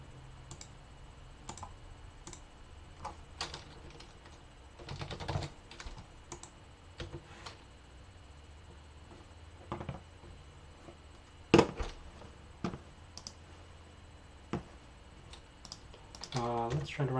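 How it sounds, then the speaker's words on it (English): Keys clack on a computer keyboard in irregular bursts while code is written, close and fairly quiet, with a fast flurry of typing near the end. "I didn't finish typing that out."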